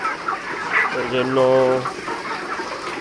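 A chicken on a poultry farm gives a short, close cluck amid a background of farm noise, with someone speaking briefly over it.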